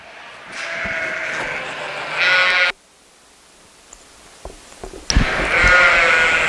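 Sheep, including buck lambs, bleat at a sheep show, with two loud, close, drawn-out bleats separated by a brief quiet gap.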